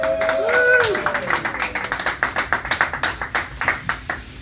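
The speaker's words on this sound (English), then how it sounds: "Please give a huge round of applause for Evan Wonderland!" A short burst of applause from a comedy show audience, hands clapping in quick uneven patter that gradually thins, with a brief voice at the start.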